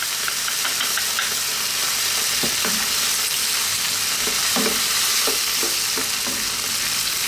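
Pork and mushrooms in a garlic-ginger gravy with oyster sauce and sesame oil sizzle steadily in a pan, a constant close frying hiss broken by occasional scraping stirs.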